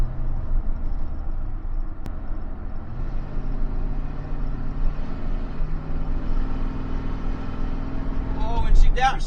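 A 2005 Ford F150 pickup on a road test accelerates hard with a loud, steady engine drone heard from inside the cab, and the pitch shifts as it downshifts, with a voice talking near the end.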